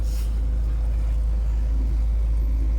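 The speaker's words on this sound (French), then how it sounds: "Il n'y a pas de vent, donc on est tous les deux au moteur" Sailboat motoring under engine power in windless conditions, its engine producing a steady, loud low-pitched drone with a constant rumble and no talking.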